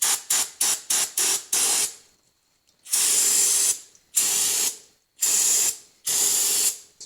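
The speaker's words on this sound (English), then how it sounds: "we're just going to spray a little bit more parts cleaner in there" An aerosol can of parts cleaner hisses in several short quick bursts, then four longer sprays separated by brief pauses, close up, during a clothes washer transmission teardown.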